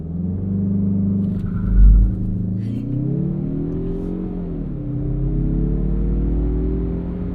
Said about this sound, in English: It's the first time this car's ever been launched